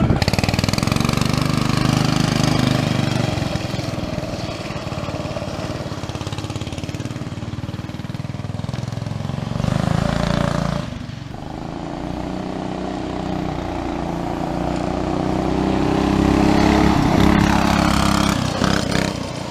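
A go-kart engine fitted with a 420cc Stage 1 kit, intake, exhaust and carb jet, runs loud and close, its steady rough drone rising and falling with the throttle and dipping briefly midway.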